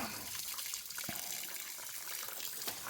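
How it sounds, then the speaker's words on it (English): Steady rushing of running water draining out of a tank, a continuous splashing flow with a couple of faint knocks. "So I just let the water run out like that as it's coming out."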